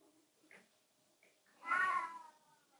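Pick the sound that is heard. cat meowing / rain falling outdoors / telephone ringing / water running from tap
cat meowing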